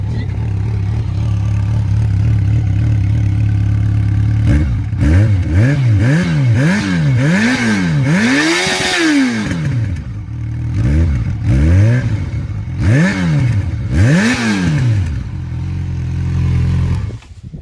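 A Yamaha YJ6 motorcycle with a small exhaust idles and then revs repeatedly, each throttle blip rising and falling in pitch in a steady series, loud and close.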